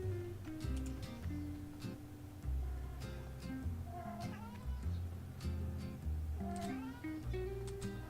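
A pet cat meows several times, with drawn-out, rising cries that sound fairly quiet and come through over continuous background game music.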